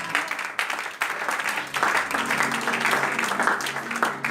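A church congregation breaks into applause during a Christmas Day sermon, a steady wash of clapping from many hands that swells after a brief lull and carries on loudly to the end.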